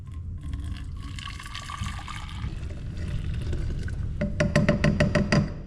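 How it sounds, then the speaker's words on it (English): Hot water poured from a pot into a hot water bottle inside a mountain cabin during a snowstorm, a steady close splashing pour that turns into quick rhythmic glugs as the bottle fills. "I don't want to waste any of that water, so I'm going to pour it in for a hot water bottle."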